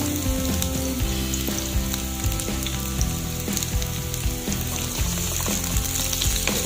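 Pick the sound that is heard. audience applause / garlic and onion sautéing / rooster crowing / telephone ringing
garlic and onion sautéing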